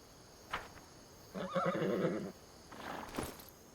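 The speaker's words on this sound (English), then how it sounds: "Oh, look, it's a little horse." A horse whinnies with a short, bright neigh, with a few hoof clops around it, heard alone and fairly quiet, in the video game Pathfinder.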